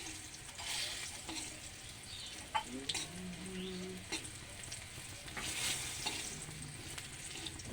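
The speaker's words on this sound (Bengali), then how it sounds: "এবার আমি এর মধ্যে 5 ফোড়ন দিয়ে দেবো" Five-spice tempering sizzles in hot oil alongside browned bitter gourd, a steady crackling fry with a few sharp pops and light stirring scrapes, close and continuous.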